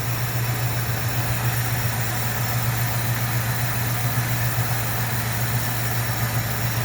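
A Ford Galaxie 500 engine idles steadily with a constant low droning hum and even mechanical rumble, close and loud, with no change in pitch throughout.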